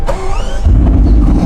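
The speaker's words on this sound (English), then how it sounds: "Engine on." A Bugatti Chiron Super Sport engine cranks and catches, settling into a deep, loud rumble close by after a brief whirring starter sound.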